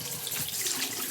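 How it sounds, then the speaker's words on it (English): RV and marine antifreeze is poured into a sink drain to protect the P-trap. A steady splashing liquid pour runs throughout, close and moderately loud, with no talk. "Pour some in the sink."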